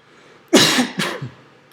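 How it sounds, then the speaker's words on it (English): A sudden medication-induced cough, two or three sharp throaty hacks in quick succession, close and loud. "I have this medicine that I take that causes me itchy throat and coughing without warning."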